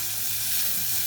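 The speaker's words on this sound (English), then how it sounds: "Sizzling up pretty good." Bacon sizzles and fries steadily in a hot pan, a loud, close, continuous crackle with no one talking.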